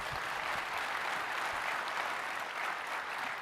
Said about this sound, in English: Big round of applause for these gentlemen.